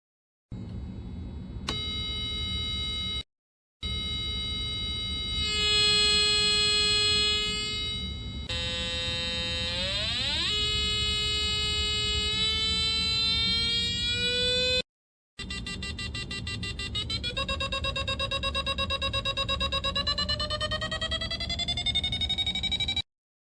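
Electronic buzzer tones from a small speaker on a student electronics project with a mode switch and volume resistor: steady harmonic beeps that shift pitch, sweep upward and change mode, broken by brief silences, loud and close with no talk.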